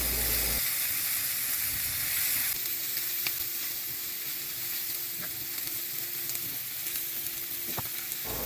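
Batter-coated shrimp frying in a pan, a loud, steady sizzle that jumps as the pieces go into the hot oil one at a time, with faint clinks and no talking.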